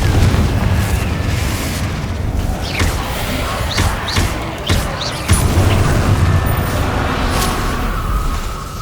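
Repeated Confringo spell blasts in Hogwarts Legacy, a string of booming pops and bursts over a dense, rumbling game soundscape, with a voice calling out spells between the hits.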